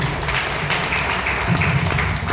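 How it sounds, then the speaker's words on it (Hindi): Applause from an audience at a company success-stories event, a sustained wash of clapping at moderate loudness over a low background hum. "एक बार जोरदार ताली बजाइए।"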